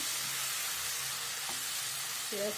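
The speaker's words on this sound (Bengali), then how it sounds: "আমার কলিগুলো ভাজা হয়ে গেছে।" Onion stalks sizzle softly in a frying pan, a steady hiss with a few brief clinks of a utensil near the end, no voices.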